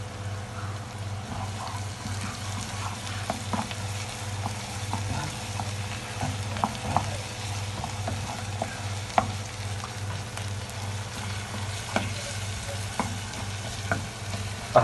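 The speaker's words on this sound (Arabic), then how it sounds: "البصل والثوم، هما بيتعملوا سوتيه كده" Onion and garlic frying in a pan for a seafood paella, a constant close sizzle over a low hum, with occasional spoon taps and scrapes scattered throughout and no talking.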